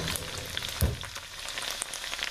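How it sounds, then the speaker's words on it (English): Onions and garlic fry quietly in bacon fat, a soft close sizzle with a faint crackle, a brief bump near the start and no talking. "really going after the onions and browning those up."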